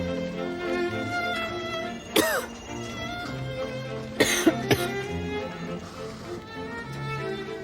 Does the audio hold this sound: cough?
yes